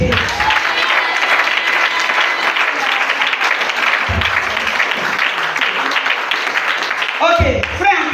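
A church congregation applauds and cheers for Jesus, loud sustained clapping from a crowd filling the room, with a voice speaking over it at moments.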